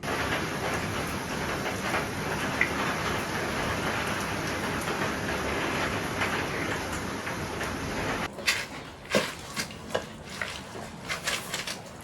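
Steady rain falls as a dense, continuous hiss for most of the stretch, then cuts off, leaving scattered drips and knocks.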